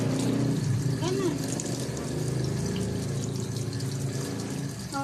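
Tap water runs steadily over soapy hands being rinsed, a continuous close gush with pump-like hum, while a voice talks over it.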